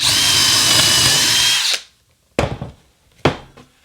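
A power drill whines steadily for under two seconds drilling a cabinet for a handle, then stops, followed by two separate knocking clunks.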